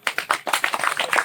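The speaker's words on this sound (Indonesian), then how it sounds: "Beri aplaus." A short burst of hand clapping from a small audience at an environmental talk, a quick run of sharp claps lasting about a second, fairly close and alone.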